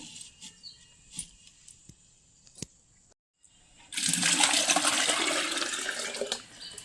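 After a few faint clicks and a short pause, water pours into a bottle in a steady rushing stream for several seconds, close and fairly loud.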